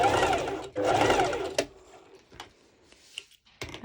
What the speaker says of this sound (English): And now I do the other stitch, the other parallel stitch.